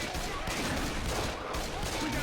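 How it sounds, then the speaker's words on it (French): Gunfire from a Left 4 Dead 2 versus match, a dense continuous rattle of shots that fills the whole moment at steady loudness without pause, with no clear voices on top. "tire sur son smoker, il a plus de vie, je vais déjà tirer quelques balles"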